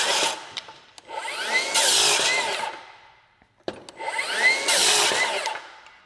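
Milwaukee rear handle circular saw cutting lumber, heard as two loud close cuts, each a rising whine into a harsh rasping bite through the wood that then spins down, with no talking.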